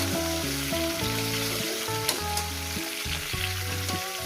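Drumstick (moringa) pods and potatoes frying in a pan give a steady sizzle throughout, with background music tones layered over the frying and no talking.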